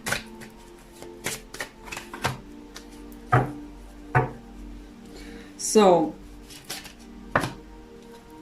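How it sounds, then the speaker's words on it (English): Tarot cards are shuffled and riffled in short bursts, with soft taps of the deck between, close by, while a voice speaks briefly. "they tell me to shuffle again."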